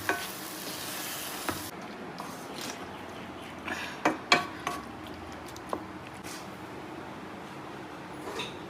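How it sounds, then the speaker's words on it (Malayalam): Mango pickle mixture being stirred in a pot, salted mango pieces mixed through the masala, with soft scraping and squelching and a few sharper spoon-on-pot knocks near the middle, close and fairly quiet. "അതും കൂടെ ചേർത്ത് എല്ലാം കൂടെ നല്ലോണം ഇളക്കണം"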